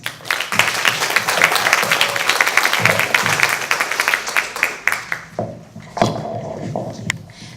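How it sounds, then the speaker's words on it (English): A round of applause from the audience at a performing arts showcase, dense clapping that swells and holds for about five seconds before thinning into a few scattered claps and quieter room noise. "Another round of applause,"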